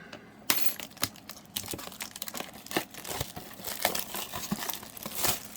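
A 2021 Leaf Multi Sport trading card blaster box is torn open up close, with crinkling wrapper, tearing cardboard and irregular rustling handling noises.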